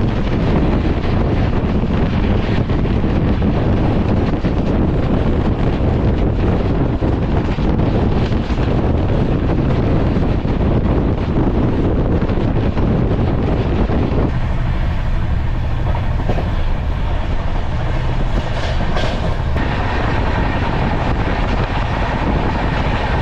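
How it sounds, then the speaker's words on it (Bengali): Kaziranga Express (13181) passenger train running at speed between Kolkata and Rampurhat near Bardhaman, a loud continuous rumble with wind buffeting the microphone throughout, the roar shifting in tone partway through. "ট্রেন ভালোই চলছে।"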